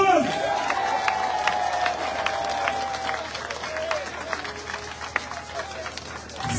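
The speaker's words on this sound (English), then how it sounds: "Ladies and gentlemen, put your hands. Let's give her a round of applause" A crowd at an electoral reform rally breaks into loud applause and cheering, with dense clapping, sharp claps and whoops, and a shouting voice rising over the noise.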